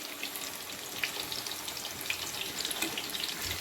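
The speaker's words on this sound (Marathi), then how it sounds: "तुम्ही पाहू शकता मस्त असं ते फ्राय" Colocasia leaf rolls (alu vadi) frying in hot oil, a steady close crackling sizzle with small pops throughout, no voices.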